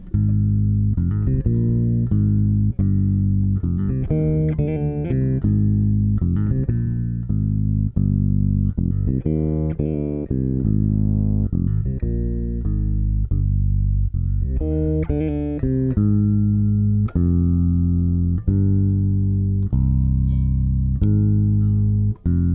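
A bass guitar through a Darkglass Anagram emulating an OC2 octave pedal plays a steady melodic line with a thick, doubled low tone, notes ringing one after another with no talking.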